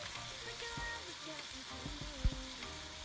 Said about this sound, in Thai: ตอนนี้ก็จะเตรียมหอยเชลลงไปผัดกับหมูนะคะ